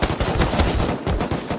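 Rapid bursts of gunfire in the video game Rust, loud and close, with sharp repeated shots rattling in quick succession and no talking.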